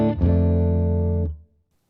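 An electric guitar through a Tube Screamer overdrive pedal into a Tone King Rhythm amp rings out one sustained, distorted chord, loud and alone, that cuts off sharply after about a second and a half.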